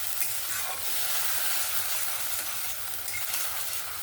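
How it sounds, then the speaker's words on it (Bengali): Onion, ginger, garlic, tomato and green chili masala paste frying for an egg curry, a steady close sizzle with stirring scrapes running throughout, no voices. "ভালো করে মশলাটা কষিয়ে নেব"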